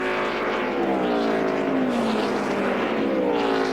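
NASCAR race cars, including Tyler Walker's No. 38 car, roar past in a loud, continuous engine drone whose pitch sweeps down and up as the cars pass close by.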